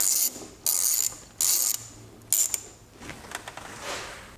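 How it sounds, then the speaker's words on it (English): Ratchet with an 8mm socket loosening the intake tube clamp on a Gen2 Raptor: four close, bright bursts of rapid clicking in quick succession, then quieter scattered ticks and handling noise. "I'm going to loosen this clamp right here with the 8mm"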